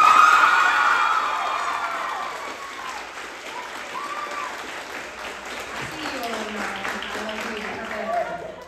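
Loud applause from the audience at a 2023 high school fall chorus concert, opening strongest and continuing as a dense wash of clapping with high cheers and whoops rising over it.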